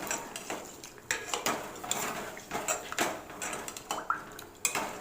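Metal spoon clinks and scrapes repeatedly against a bowl while spiced yogurt with onion, green chili, turmeric and salt is stirred for buttermilk rasam, a close, irregular clatter with no talking.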